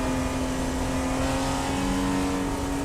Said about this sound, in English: Heard him working the throttle there.